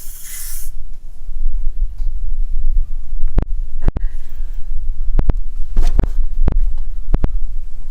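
A Vevor RR500 refrigerant recovery machine runs with a steady low hum during a purge, cut by several sharp clicks and taps, with a brief hiss of released air at the start.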